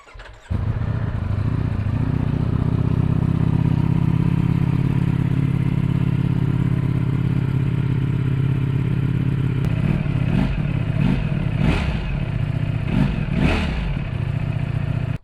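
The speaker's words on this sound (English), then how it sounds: "here I'll start it. We'll get an exhaust clip of it." Ducati Streetfighter V4S motorcycle, wrecked and left outside for months, starts up and settles into a loud, steady rumbling idle at close range, with a few sharp blips and clatters near the end.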